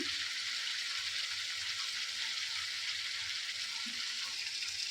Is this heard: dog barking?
no